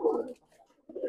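A Nildumma pigeon cooing close by, two short low coos separated by a brief pause.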